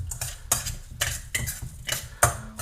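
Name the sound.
spoon stirring breadcrumbs moistened with milk in a bowl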